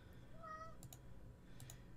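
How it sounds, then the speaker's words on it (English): A cat meows once, a short faint tonal cry at moderate distance over a low steady room hum during a gaming session, followed by two soft clicks. "Oh, hush, demon cat."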